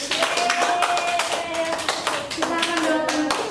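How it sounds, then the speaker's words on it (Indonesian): Students in a classroom clap their hands together for several seconds, a dense patter of claps with a few voices calling out over it and tonal chatter running underneath. "Tepuk tangan untuk kita."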